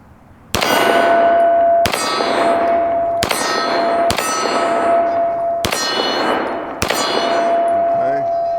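Pistol rounds, including 30 Super Carry, strike a steel gong target at an outdoor range. Six loud metallic clangs come at steady intervals, each ringing out with a long, bright, bell-like decay that overlaps the next hit.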